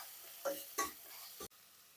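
Two chopped tomatoes stirred into a pan with sizzling oil while vegetable kurma cooks, giving a few quiet scraping stirs over a soft, steady sizzle, with a sharp clack near the end.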